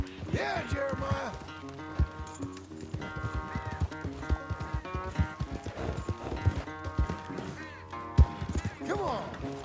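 Horse hooves clip-clop in Red Dead Redemption 2, a quick irregular rhythm of hoof strikes with snorts and a neigh, under game music and someone talking.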